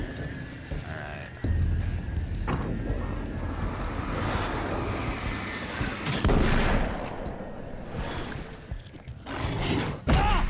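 Gunfire from a new weapon in Alan Wake's American Nightmare, a game, with sharp irregular shots and louder bursts over a dense, busy background of ambient noise and effects.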